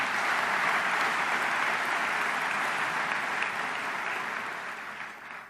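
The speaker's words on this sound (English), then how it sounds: "a big round of applause to Colin" Audience applause for Colin at a municipalities conference addressed by the Ontario housing minister, a dense, sustained round of clapping from a large crowd that tapers off at the close.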